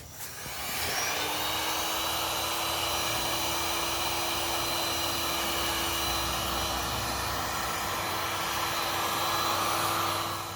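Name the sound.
heating the hub of a BMW K1600 GT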